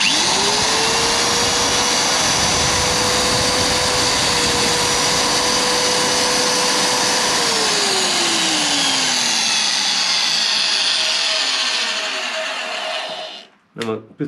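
A magnetic drill switched on while repairing a trailer hitch coupling whines up to a steady, loud motor hum, then winds down in a falling tone, ending with a few sharp clunks.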